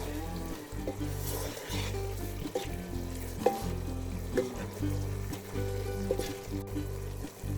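Onions fry with a steady sizzle in a pan for biryani while a utensil stirs them, scraping and clattering intermittently throughout, close and moderately loud with no talking.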